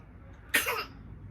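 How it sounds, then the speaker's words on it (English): A baby gives one short, sharp cough, close and fairly loud above a quiet room background. "My baby coughing."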